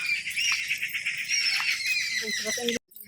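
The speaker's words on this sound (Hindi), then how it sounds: "चिड़ियों का शोर हो रहा।" Birds chirp and twitter outdoors in the early morning, a dense high chorus running steadily for a few seconds before cutting off abruptly.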